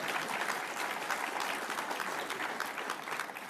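Steady applause from a conference audience, continuous clapping at an even level throughout with no talking over it.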